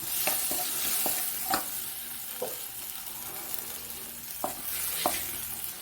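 Tomatoes with a pinch of salt sizzle steadily in a pan, punctuated by several close, sharp scrapes and stirs of a spoon against the metal, with no talking.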